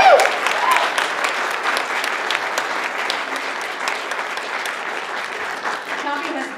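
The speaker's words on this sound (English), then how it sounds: "So thank you for your round of applause for him." An audience at the 2019 Horn Lecture bursts into loud applause, a thick roll of clapping that slowly eases off, with a voice heard briefly at the start.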